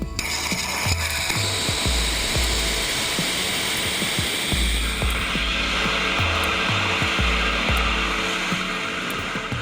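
Rocket engine ignition and takeoff of the COBALT flight test vehicle. A loud, continuous roaring hiss fills the scene, with repeated low thumps beneath it and a brighter rushing tone after the midpoint.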